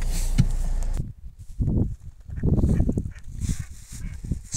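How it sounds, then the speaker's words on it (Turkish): Ducks at Akşar pond in Bayburt honk loudly and repeatedly from nearby, in bursts of harsh, nasal calls broken by short pauses, with some outdoor rustle behind them. "ördekler beni gördü, hareketlendiler"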